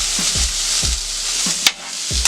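Steak sizzles in a hot pan with a steady hiss of frying fat, broken by a few soft low thumps and a sharp clack.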